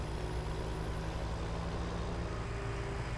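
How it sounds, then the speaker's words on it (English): A heavy truck engine in Farming Simulator 17 drones steadily with a high turbo whine running through it, continuous and fairly loud, no voices. "I can't get over how good this truck sounds. Like, you hear the big turbos whining"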